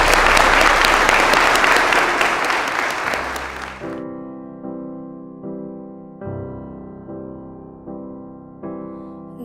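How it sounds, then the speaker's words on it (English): Loud, dense applause greets a newly married couple at their wedding reception, sustained for several seconds before cutting off as a slow piano melody begins alone. "let's give them a round of applause."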